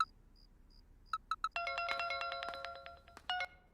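A mobile phone ringtone in a Hindi film opens with a few sparse electronic beeps, then breaks into a bright, loud melodic tone pattern that repeats and stops briefly before resuming, with no talking.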